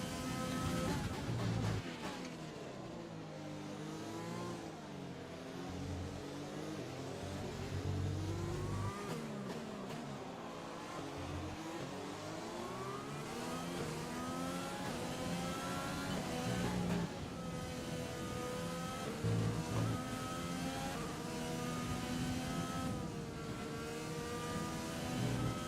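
An F1 race car engine in the F1 2020 video game at the Mexico round, droning and revving continuously with rising and falling pitch through gear changes, loud and steady throughout with no talk.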